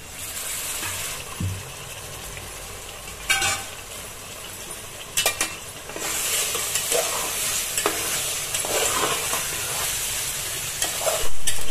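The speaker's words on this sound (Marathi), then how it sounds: "चला तर मग आता आपण हे मटण आता आपण याच्यामध्ये टाकत आहोत" Mutton pieces dropped into a spice masala in a hot pan, sizzling and frying steadily with intermittent stirring scrapes and a few louder clatters, with no voices throughout.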